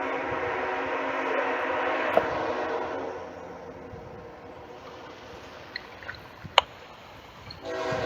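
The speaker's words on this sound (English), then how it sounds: "First train filmed at Harpers Ferry, West Virginia" An intermodal freight train rolls past at Harpers Ferry, West Virginia, its steady rumble filling the first few seconds before easing off, with a sharp horn blast cutting in near the end.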